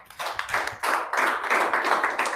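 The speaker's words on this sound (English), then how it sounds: "A round of applause for him, please." An audience at a team-building talk in Lagos gives a short burst of clapping, fairly close, with individual hand claps audible in a loose, uneven patter.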